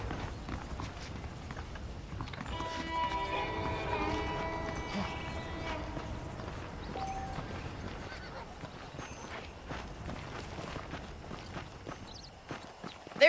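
Steady clip-clop of horse hooves at a walking pace in the video game Red Dead Redemption, with a horse whinnying partway through over a busy outdoor game soundscape.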